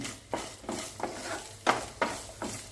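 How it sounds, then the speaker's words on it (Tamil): Grated coconut being stirred and roasted in a pan for a Kerala-style dish, a soft repeated scrape and faint sizzle every half second or so, quiet and close without voices. "நம்ம இப்போ இந்த தேங்காயை பொன்முருவலாக வறுக்க போகிறோம்"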